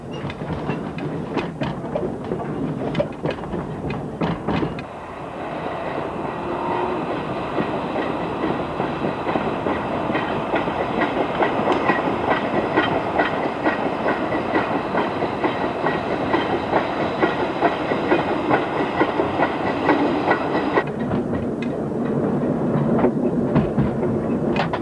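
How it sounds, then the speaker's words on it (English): A train rumbles steadily close by on the Romney line, with clickety-clack wheel knocks over points as it rolls into the platform road, continuous and fairly loud throughout. "the train makes its way over the points and into the platform road"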